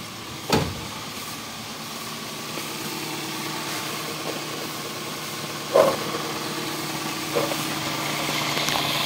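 A 2008 Toyota Avanza engine idles with a steady low rumble, broken by a few uneven knocks and stumbles at irregular intervals.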